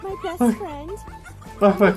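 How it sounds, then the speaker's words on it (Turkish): A fox gives a string of short, yelping calls that sound like cackling laughter, bursting out in quick clusters at close range. "Tilkilerin sesi böyle kahkaha atıyormuş gibi."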